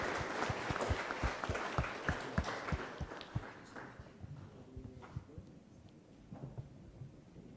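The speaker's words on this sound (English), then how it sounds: "Please let's give a warm round of applause to our experts" Applause for the expert panelists at a climate crisis workshop on the Eastern Mediterranean and Middle East, a dense patter of clapping that thins and fades out after a few seconds, leaving scattered claps.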